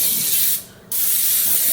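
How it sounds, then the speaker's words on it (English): Cooking spray hisses steadily from a can onto a non-stick pan, a close, loud continuous spray that stops briefly partway through, then resumes. "but I still like to spray because it's just easier to clean up."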